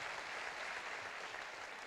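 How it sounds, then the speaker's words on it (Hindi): An audience claps for a speaker, a dense, even burst of applause sustained throughout, moderately distant with no voices over it. "तो उनके लिए एक बार जबरदस्त ताली हो जाए"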